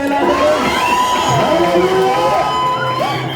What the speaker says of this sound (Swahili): Tupigie Yesu vigelegele na